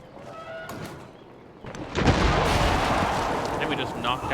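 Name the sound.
cannon fire in Civilization VII video game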